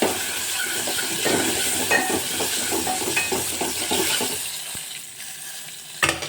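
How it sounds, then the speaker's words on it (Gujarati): Mustard seeds, asafoetida and whole spices sizzling in hot oil for South Indian sambar, a steady close crackle with occasional pops and stirring clinks, continuous for several seconds with no talk. "હવે આપણે ખડા મસાલાને સાતડી દઈશું"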